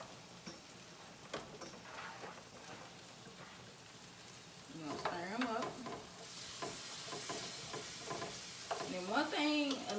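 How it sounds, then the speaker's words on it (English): Strips of onion sautéed and stirred in a pan give a quiet, steady sizzle with soft scraping strokes and a few brief voice-like sounds in the background. "So you're gonna take your strips of onions we just cut. You're gonna throw them in there. You're gonna stir them up."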